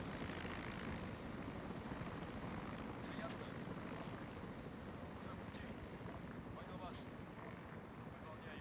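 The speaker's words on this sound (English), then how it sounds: "There's a Mi-24V right above Alpha." A Mi-24V helicopter passes overhead during an airbase raid in a video game, its rotor and engine making a steady, heavy drone with a fast chopping pulse, while a voice talks over it.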